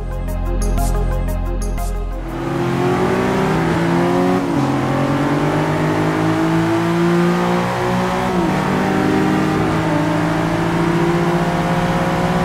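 A BMW M4 engine accelerates hard while racing a Nissan GTR, a loud, steady roar that climbs in pitch through repeated gear shifts, close and continuous with no talking.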